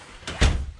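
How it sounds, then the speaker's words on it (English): A bathroom door in a travel trailer swings shut with a short whoosh followed by a single solid thud, close and brief. "This door shut."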